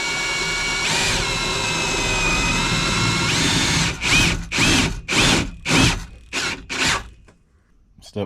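Power drill driving self-tapping screws into a metal gate frame: a long steady whine, then a series of six short, loud bursts with pauses between, fading out, close up.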